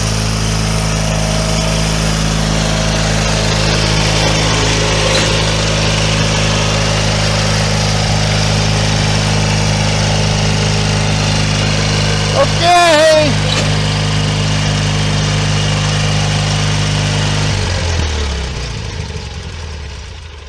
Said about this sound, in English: he's doing a burnout with my tractor